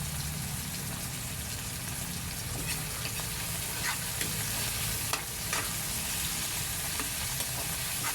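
Tomatoes sizzle and fry in a pan as they soften, with a dense, continuous crackle close by. Occasional scrapes from stirring rise above it, and there is no talking.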